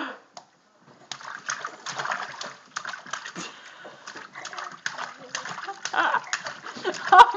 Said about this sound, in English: Someone learned how to splash.